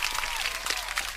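Clapping and cheering from a video game, rewarding a dart hitting its target, sounds as a steady crowd applause that fills the whole moment at moderate volume with no voices over it.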